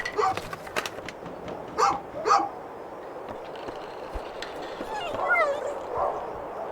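A dog in the video game A Juggler's Tale gives a few short yips and barks, then whimpers, mixed with soft game sounds and a narrator's voice.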